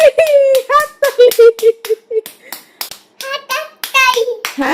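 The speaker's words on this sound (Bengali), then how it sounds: "হাততালি, হাততালি" A toddler claps small hands at home in a quick, uneven run of light pats, mixed with the child's high babbling and an adult's voice close by.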